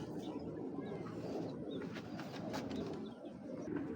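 Soft cooing of racing pigeons repeats against a steady low rumble of background noise, fairly quiet and continuous throughout.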